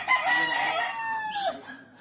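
A rooster crows at a gamefarm in Ilocos, one drawn-out crow falling in pitch over about a second and a half, close and clear, with soft hen clucking and faint voices behind it.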